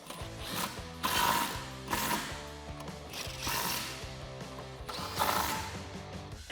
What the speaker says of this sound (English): I'm just going to snug those up with the same 13/16 inch socket.